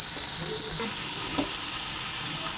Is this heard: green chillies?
yes